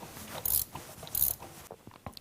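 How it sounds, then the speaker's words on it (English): A 10mm deep socket on a ratchet loosening nuts under the shifter of a Ford Mustang: two short bursts of rapid clicking, close and crisp, followed by faint metallic taps. "Using a 10mm deep socket, remove these 2 nuts underneath the shifter"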